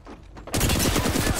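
Rapid, loud gunfire bursts in an Apex Legends-style battle royale shooter erupt abruptly after a quieter moment, with dense repeated shots continuing close up to the end, no talk.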